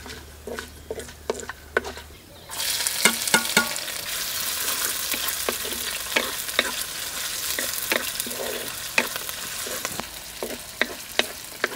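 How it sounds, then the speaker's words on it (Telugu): Whole spices and chopped onion frying in hot oil, a steady close sizzle with repeated scraping and tapping of a spoon stirring the pan, no voices. "ఇవి 1 నిమిషం వేయించుకుని పెద్ద సైజు ఉల్లిపాయ ఒకటి కోసి వేసుకుందాం"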